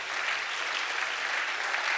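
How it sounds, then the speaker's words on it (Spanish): A church congregation applauding steadily, dense continuous clapping from many people filling the whole moment, loud and sustained. "Den un fuerte aplauso al Señor"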